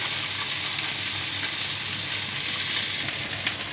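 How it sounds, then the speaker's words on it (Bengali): Rohu fish fries in hot oil, a dense, steady sizzle that stays loud and close throughout with faint crackles and no voices. "আমার মাছটা ভাজা হয়ে গেছে"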